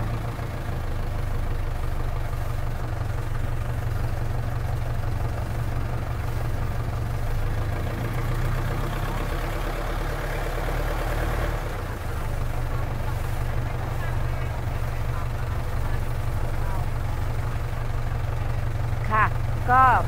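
A boat engine hums with a steady low drone for the whole stretch, shifting slightly partway through, while people talk over it.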